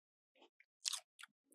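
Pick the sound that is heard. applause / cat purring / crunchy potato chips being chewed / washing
crunchy potato chips being chewed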